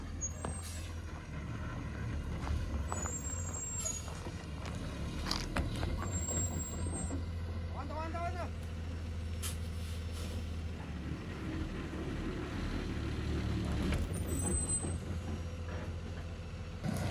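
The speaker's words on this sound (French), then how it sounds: "ton premier camion qui arrive" A heavy truck pulls in at a rural building site in Mexico, its diesel engine rumbling low and steady throughout, with a few hissing air-brake releases and mechanical clanks close by.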